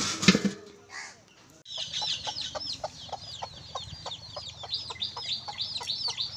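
Chickens cluck in a rural family farmyard that also holds ducks, cows and pigeons. The calls come as a steady series of short, fairly close clucks over a soft background hum, with no talking.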